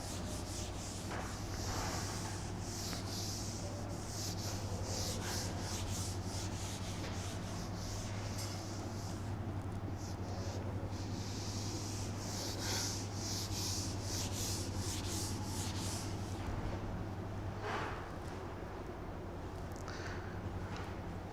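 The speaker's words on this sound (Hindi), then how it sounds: "चलिए मैं इसको रब करता हूँ" A duster or cloth rubs chalk off a classroom board during a maths lecture, giving a continuous soft scraping swish with repeated strokes, fairly quiet and steady without talk.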